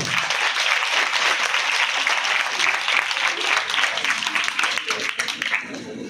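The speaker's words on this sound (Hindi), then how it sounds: "सभी बच्चों के पूरे तालियां बजाओ एक बार" Children in a Hindi quiz audience break into sustained, dense applause, a steady wash of clapping that holds for about six seconds and thins slightly at the end.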